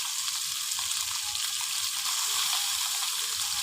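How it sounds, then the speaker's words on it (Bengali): Clay stove (unoon) fire burning fiercely under a pan of frying fish: a steady, loud hissing crackle with no breaks and no voices. "এই দেখুন আমার উনুন জ্বলছে, দেখুন কিরম বারুদের মতো জ্বলছে"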